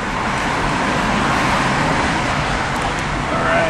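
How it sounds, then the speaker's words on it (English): Steady, dense city traffic noise rumbles continuously while driving through San Francisco, a constant wash of engines and road roar with no clear breaks. "Oh no! There's like traffic!"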